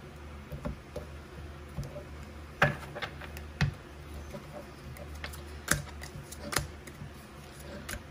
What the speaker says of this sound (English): We're gonna cut the deck.